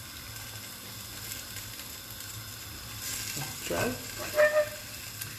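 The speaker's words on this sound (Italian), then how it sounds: "Nel frattempo che invece lui sfrigola" Food frying in a pan while cooking Palermitan pasta with broccoli, a steady close sizzle with occasional stirring scrapes and a brief spike of louder crackling, with a short spoken word.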